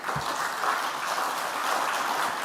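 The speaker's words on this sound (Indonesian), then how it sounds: "tepuk tangannya aja nggak meriah" A crowd at a political speech claps in steady, even applause that stays moderate and fairly subdued throughout, with no talking.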